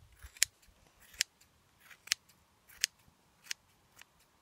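Scissors snip through pompom yarn in crisp, separate cuts, about six sharp snips spaced roughly evenly, close and quiet against a near-silent background.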